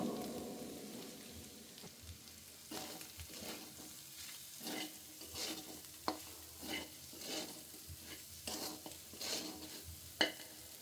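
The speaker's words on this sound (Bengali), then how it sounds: "মোটামুটি আলুটা ভাজা হয়ে গেছে, এই পর্যায়ে আমি রেখে দেওয়া সব মশলা দিয়ে নিব।" Potatoes fry gently in oil in a pan once the spices have gone in. The quiet sizzle has a crackling, rain-like texture, and soft stirring scrapes recur every second or so with a few sharper knocks.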